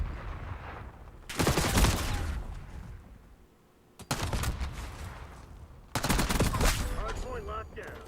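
Gunfire in Black Ops 6 during a ranked Hardpoint match: three loud bursts of shots around the start, middle and end, separated by quieter game ambience.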